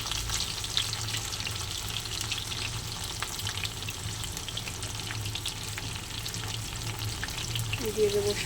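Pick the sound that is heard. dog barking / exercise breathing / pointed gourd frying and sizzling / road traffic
pointed gourd frying and sizzling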